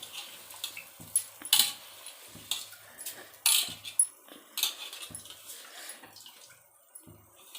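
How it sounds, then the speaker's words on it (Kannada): Soaked rice tips into a cooking pot for pulao in a run of short, scattered rustling bursts and soft scrapes, fairly close and with no talking. "ನೋಡಿ, ಅಕ್ಕಿ ಈ ಥರ ಹಾಕೋಣ ನೆನೆಸಿಟ್ಟಿದ್ದು"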